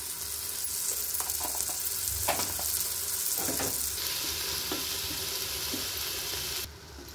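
Goat leg curry masala fries with tomatoes in a pan, a continuous close sizzle broken by scrapes and clinks of stirring, ending in a brief quieter moment.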